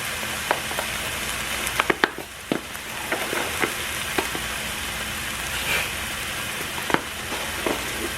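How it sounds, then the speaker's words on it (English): Rice poured into a pot of boiling water on a home stove: a steady bubbling hiss with scattered sharp clicks and light rattles over about eight seconds, no voices. "my water's boiling for my rice, so I'm going to go ahead and put my rice in."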